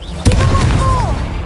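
A Confringo blasting spell goes off in a Harry Potter video game: a sudden loud boom followed by a sustained rumbling blast with a ringing tonal sweep trailing through it.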